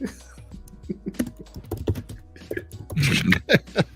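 Quick, irregular clicking of keys on a computer keyboard, close by, with a busier flurry of keystrokes near the end and faint sounds in the background.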